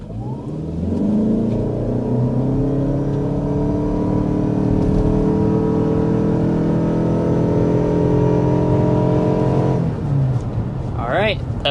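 A 2025 Mazda CX-50 Hybrid or Honda CR-V Hybrid SUV accelerating hard to 60 mph, with a loud, steady engine drone that rises in pitch from inside the cabin, then eases off near the end with a brief squeak.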